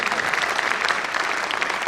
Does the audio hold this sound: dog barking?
no